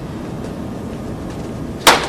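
A hollow training stick in a stick-fighting drill strikes gloved hands once, a single sharp, loud crack near the end, after steady low background noise.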